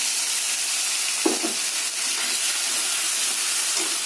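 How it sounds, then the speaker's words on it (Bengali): Water poured into a hot pan while chilli chicken cooks, producing a loud continuous hiss and steamy sizzle with faint bubbling, close and steady throughout, no voices. "দিয়ে নেব অল্প করে পানি"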